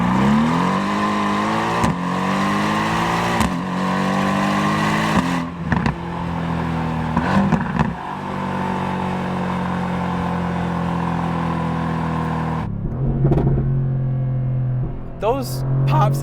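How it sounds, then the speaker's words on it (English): A Mercedes-AMG GT R in Race mode accelerates hard, its engine note climbing through several gear changes with loud exhaust pops and bangs on the overrun, recorded from inside the car with a voice talking over it. "Those pops and bangs are hilariously loud."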